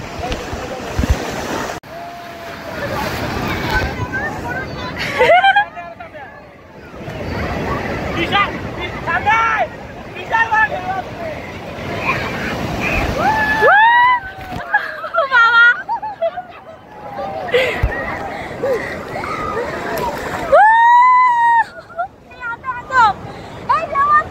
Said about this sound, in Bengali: যা বড় বড় ঢেউ আসছে এখন